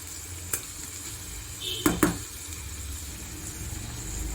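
Garlic frying in a pan for a spinach (palak) fry gives a steady, soft sizzle throughout, with a few brief clinks of a utensil stirring near the middle.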